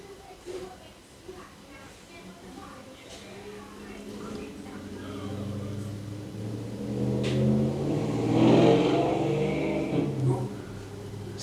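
Outdoor traffic drifting in from outside a room, a faint low rumble of passing cars that swells gradually and peaks near the end, with no one talking over it.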